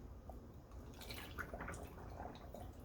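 Water slowly seeps and drips into a snail trap lowered into an aquarium, making faint, scattered gurgles and drips against a quiet background.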